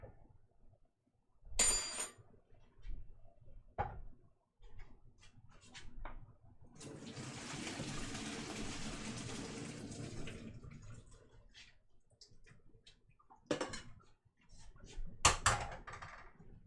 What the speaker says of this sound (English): Start by straining our taters. Use my little strainer.